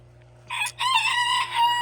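A cockerel crows once, close and fairly loud, a harsh, stretched call over a low steady background hum; an Americana cockerel on a farm.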